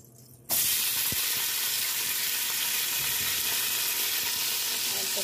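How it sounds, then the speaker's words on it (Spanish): Onion hits hot oil in a pan and bursts into a loud, steady sizzle that continues unbroken after a quiet start. "Vamos a echarle entonces la cebolla."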